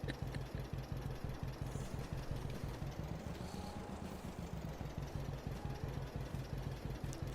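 A small tractor engine idles on a farm field, a steady low mechanical chug with rhythmic pulsing that stays even and fairly close throughout, no voices over it.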